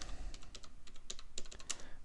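Fingers tap quickly on a computer keyboard, a close run of irregular clicking keystrokes with a few louder presses and no talk.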